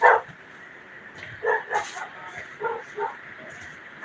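A dog barks and yips several times in quick, uneven bursts, somewhat distant, over a steady low background hum.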